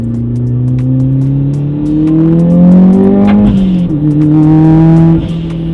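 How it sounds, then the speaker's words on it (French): A Mitsubishi RVR Hyper Sport Gear R with a 2-litre four-cylinder engine accelerates hard, its loud, steady drone rising in pitch. It dips briefly at a gear change midway, then climbs again. "Pour un petit 2 litres 4 cylindres, il est bien plein en bas le moteur avant que ça se mette à souffler."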